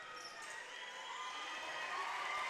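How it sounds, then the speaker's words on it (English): Crowd of Wildcats fans cheering at a high school boys' basketball game late in the fourth quarter, a steady broad roar filling the gym that swells slightly toward the end, with no voices standing out. "you can hear the crowd of the Wildcats saying this one is ours"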